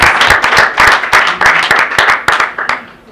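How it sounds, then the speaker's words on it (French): Loud, close applause at a press conference honouring a Congolese music star, with sharp individual claps falling into a rough rhythmic beat before easing off at the end. "Nous allons applaudir pour lui."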